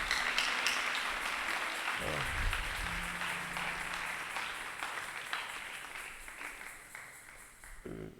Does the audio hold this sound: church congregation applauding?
yes